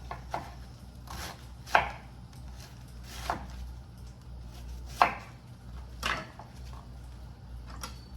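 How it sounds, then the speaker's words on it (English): A knife chops cabbage on a cutting board for a ham, potato and cabbage stew, giving sparse, irregular thuds, about eight close, crisp strikes spaced across quiet kitchen background. "we are gonna chop up our cabbage"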